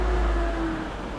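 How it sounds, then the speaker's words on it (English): A truck drives past outdoors, a loud low engine rumble that swells at the start and then eases slightly as it moves by, with no voices. "Truck."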